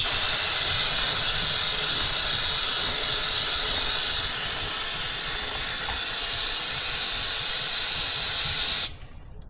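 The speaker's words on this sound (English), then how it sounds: "I'm just going to press the can of lube and spin the wheel." An aerosol can of chain lube hisses in one long, steady, close spray onto a motorcycle chain as the wheel is spun, cutting off abruptly near the end.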